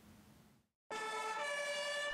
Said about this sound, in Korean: 사이렌을 울리며 긴급 출동하는 소방차